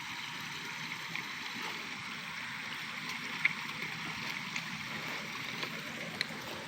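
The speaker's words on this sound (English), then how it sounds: "Ooh, Ruby found a running water." Running water at an outdoor dog park gives a faint, steady trickling wash, with a few soft clicks and taps on top and no talking.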